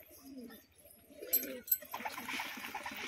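Racing pigeons kept at home coo softly and close by in short low pulses, with a couple of sharp wing or body knocks and a brief splashy rustle near the end.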